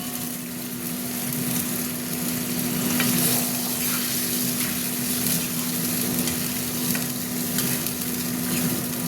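Mutton fat cooks with a splash of water in an iron wok, giving a loud, continuous sizzle and bubbling hiss with stirring scrapes, steady throughout with no talk.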